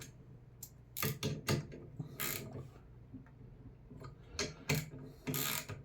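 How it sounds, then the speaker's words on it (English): A hand ratchet tightens the bolts on an 80Ah sodium-ion 4S8P battery bank, making several short bursts of close, dry clicking separated by brief pauses. "I'm just going to lightly tighten down the entire bank."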